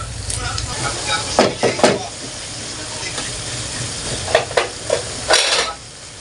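Ground beef fries in a pan, releasing its fat with a steady close sizzle and hiss, and several louder bursts as the meat is stirred.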